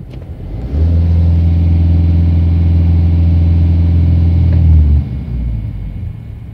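A truck engine is pushed to full power, a loud, steady low-pitched roar that holds for about four seconds before cutting back to a rumbling idle.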